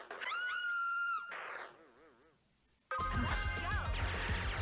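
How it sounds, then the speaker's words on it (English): A woman's scream rises and wavers in a pixel-graphics video game as her character dies, cutting off into a loud crash of game sound, with no talking over it. "Scream and she dies."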